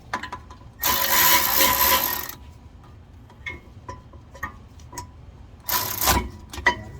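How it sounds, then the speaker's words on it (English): A ratchet tightens the rear brake caliper bolts on a Lexus GS in two loud bursts of rapid clicking, the second shorter, with scattered quieter mechanical ticks and clacks in between. "Now with that tight, put your ratchet"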